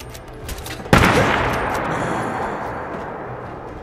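Gunfire from a weapon in Fallout 4 erupts in a single sharp, loud blast near the start, followed by a long rumbling decay and scattered softer shots, with no talking.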